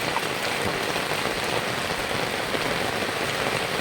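Steady downpour of heavy village rain, a loud continuous wash of raindrops drumming on nearby surfaces without pause, and nobody speaking.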